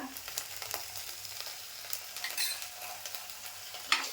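Ginger garlic paste and curry leaves frying in oil for tomato rice, a soft continuous sizzle with light scrapes of a spoon stirring and a brief metallic clink near the end, no voices.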